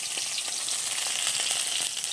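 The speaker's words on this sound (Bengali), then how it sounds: "আর দিয়ে দিচ্ছি শুকনো লঙ্কা।" Dried red chillies fry in a little white oil in a wok, producing a bright, continuous sizzle with small crackles and pops, close and fairly loud, with no voices.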